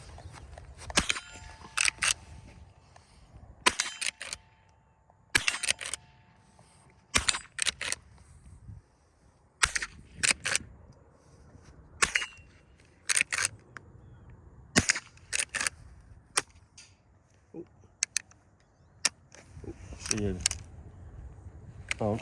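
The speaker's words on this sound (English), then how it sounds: "So, let's go ahead and put a few rounds down." A .22 round-barrel rifle firing .22 short, long and long rifle rounds at an outdoor shoot: sharp, close gunshots spaced irregularly, some in quick pairs, with metallic handling clicks and people talking in between.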